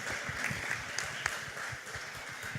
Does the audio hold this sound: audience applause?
yes